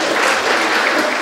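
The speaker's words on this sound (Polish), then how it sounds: "Jeszcze raz gorące brawa." Dense, steady applause from an audience at a Fat Thursday community gathering in Gawroń, loud and even throughout with no break.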